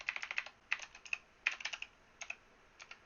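Rapid bursts of keystrokes on a computer keyboard as a WordPress command is typed, close and crisp, with short pauses between clusters of clicks and no talking.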